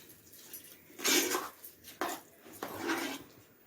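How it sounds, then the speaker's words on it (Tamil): A spoon scrapes and stirs thick millet pongal with ghee in a pot in three distinct bursts of rasping, scraping strokes, close and moderately loud, with quiet gaps between them. "நல்லா கிளறி விட்டுருங்க"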